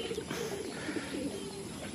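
Racing pigeons coo softly inside a truck, a faint, muffled murmur of low throaty calls against a steady background hum.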